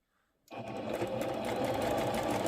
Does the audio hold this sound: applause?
no